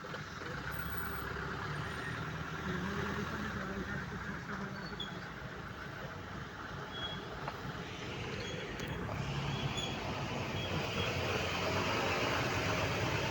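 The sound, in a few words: cattle transport trucks idling at market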